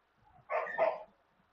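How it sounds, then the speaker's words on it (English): Puppies fighting let out one short, rough bark or yelp lasting about half a second. It is moderately close and comes alone, with near silence before and after. "my puppies are fighting"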